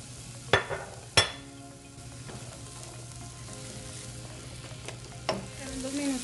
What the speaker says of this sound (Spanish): aquí ya tengo mi sartén, le voy a poner un poquito de aceite. Le voy a agregar aquí ya la cebolla.